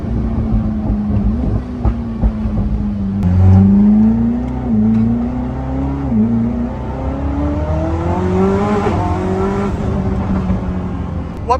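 Koenigsegg Jesko at full throttle from first to fifth gear, heard from inside the cabin: a loud, droning engine note climbs steadily in pitch, with brief dips at each gear change.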